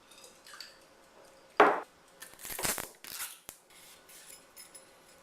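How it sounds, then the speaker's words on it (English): Strips of hothouse cucumber peeled for a cheesecake topping: a sharp, close tearing swipe followed by several softer scraping and rubbing strokes, with quiet pauses between. "I'm going to start peeling off strips"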